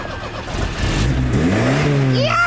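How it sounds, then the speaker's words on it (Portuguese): A Chevette car engine revs up while drifting, the pitch rising sharply over a couple of seconds, loud and close, with voices faintly underneath. "Tá fazendo o drift."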